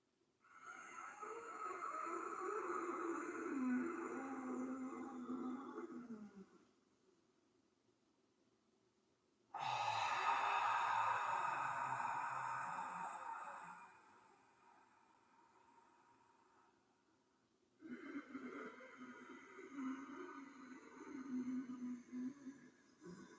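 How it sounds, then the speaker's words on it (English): Deep, audible yoga breathing during a Bikram-style session: long, breathy rushes of air drawn in through the nose for about six seconds and pushed out through the mouth, repeated in three sustained waves separated by quiet pauses. "creating an audible breath, both on the inhale and the exhale"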